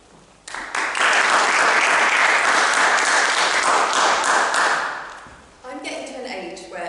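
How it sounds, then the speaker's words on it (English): Audience applause for a speaker at a formal event, a dense sustained wash of clapping that rises quickly, holds steady for several seconds, then fades, with a little talk and noise as it dies away. "please give a big round of applause to Melody Baker for her speech"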